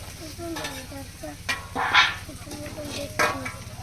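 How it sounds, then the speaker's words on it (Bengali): Spices sautéed in a pan while cooking for a large village gathering: close sizzling with scraping stirs in short bursts, over a steady low hum and faint tonal chirps in the background. "মশলাগুলো চার পাঁচ মিনিট ধরে কষিয়ে নেব"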